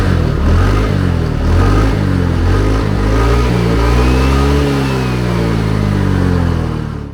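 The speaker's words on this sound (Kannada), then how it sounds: "ಗಾಡಿ ರೇವ್ಸ್ ಕೊಟ್ಟಾಗ" A TVS Ntorq 150 scooter engine revved repeatedly, close and loud, with its pitch rising and falling through several throttle blips before settling into a longer, sustained rev, then cutting off at the end.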